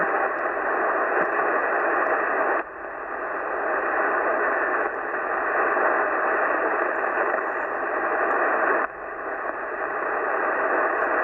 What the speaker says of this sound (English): I was flicking through the frequency there, I can't hear anybody on at all